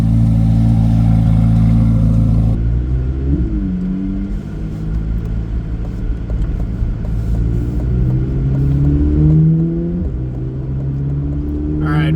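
A modified C8 Corvette Z06 with exhaust valves open pulling away from a stoplight, a loud deep engine note rising in pitch through gear changes, heard from inside the car with a voice speaking.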